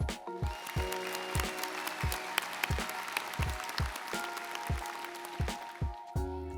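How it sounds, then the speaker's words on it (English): Fall 2021 commencement audience applauding graduates, broad clapping spread across the room, punctuated by repeated low booming thumps and sustained musical tones. "Let's give them a round of applause."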